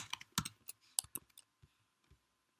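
Keys clack on a computer keyboard in quick irregular bursts, close and fairly quiet, thinning out into a few scattered taps.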